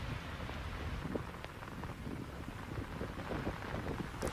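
Heavy rain pours steadily during a monsoon storm over the Delhi NCR region, a dense continuous hiss with faint low rumbles of distant thunder underneath.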